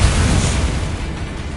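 A Bombarda explosion spell cast in a wizard video game, heard as a loud, low, rumbling blast that fades steadily over about a second and a half.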